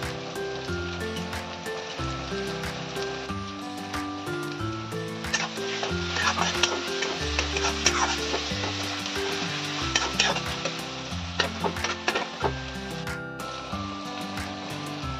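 Sliced onions frying in oil in a pan as chopped onion greens are tipped in: a continuous bright sizzle with frequent clattering scrapes of a spoon stirring the pan, nearby and alone with no voices.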